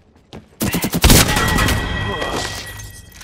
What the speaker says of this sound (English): Open fire on the enemy.